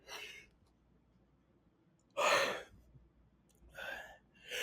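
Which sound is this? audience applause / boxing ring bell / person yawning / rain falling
person yawning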